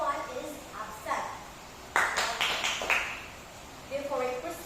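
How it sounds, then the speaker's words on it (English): Elementary school students give themselves a brief burst of applause in a classroom. A teacher's voice speaks before and after the clapping. "Please give yourselves a wonderful clap because no one is absent."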